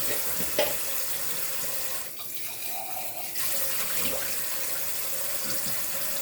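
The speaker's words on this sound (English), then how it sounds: "I let the water run a little bit, just a little bit." Water running from a bathroom sink tap for a hand wash, a steady hiss of flow that dips briefly midway and then resumes, close by with no talk.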